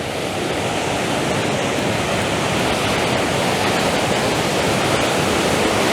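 A powerful waterfall throwing out heavy spray, heard up close as a dense, loud, unbroken roar of rushing water with no other sounds.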